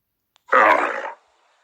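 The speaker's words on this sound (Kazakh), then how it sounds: "Бұл түйенің даусы деп балалар үй жануарларының даусын танып атайды." A single rough, throaty animal bellow, loud and close, lasting under a second and heard alone against silence.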